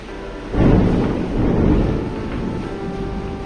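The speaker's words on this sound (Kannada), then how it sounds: "ಜೋರಾಗಿ ಮಳೆ ಬಂತು ಸ್ನೇಹಿತರೆ ಅದು ಒಂಥರ ಖುಷಿ ಕೊಡ್ತಾಯಿದೆ" Heavy rain pours steadily while a deep roll of thunder rumbles in loudly, swelling then fading back into the downpour.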